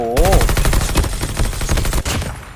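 Rapid automatic gunfire in the mobile game Call of Duty Mobile rattles out as a loud, dense burst of shots for a couple of seconds.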